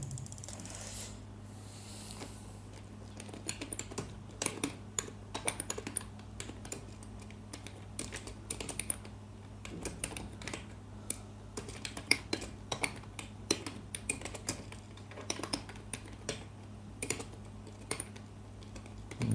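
Bengali text is typed on a computer keyboard: quick, irregular clusters of close key clicks over a steady low electrical hum, with short pauses between bursts.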